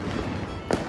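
New Year fireworks at a home celebration, with one sharp, loud burst standing out near the end over a steady crackling, rumbling background of distant explosions.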